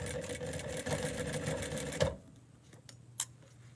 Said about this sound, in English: I'm just sewing this to the right side of these pants